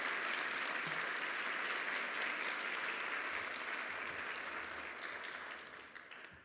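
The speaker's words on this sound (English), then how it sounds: "Please give a round of applause to honor Representative LaShawn Ford for his Health Equity Advocacy" A banquet audience at an awards ceremony gives steady applause honoring a state representative, a dense even wash of clapping that holds for several seconds and then gradually fades, heard from a distance.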